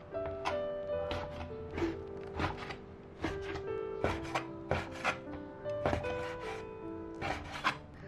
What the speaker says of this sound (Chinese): 然后把肉切成条， 再全部切成稍微大一点的块。